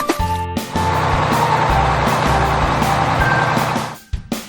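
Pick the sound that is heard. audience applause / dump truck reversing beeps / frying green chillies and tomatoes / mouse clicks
dump truck reversing beeps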